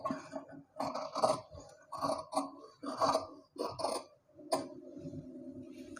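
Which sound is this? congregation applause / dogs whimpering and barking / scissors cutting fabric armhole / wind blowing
scissors cutting fabric armhole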